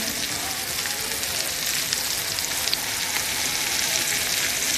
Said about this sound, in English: My oil is hot now. And so I'm gonna take my breast and just put it right into the oil.